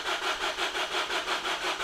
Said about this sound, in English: So fuel pressure, we'll crank the engine on that.